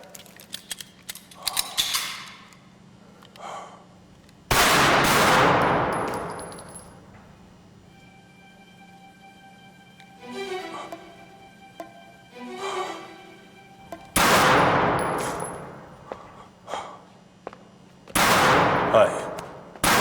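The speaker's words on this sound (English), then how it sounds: "Ready to fire. Fire." Gunfire rings out on a firing line, with several loud sharp reports each followed by a long decaying ring, separated by quieter gaps with faint mechanical clicks and handling.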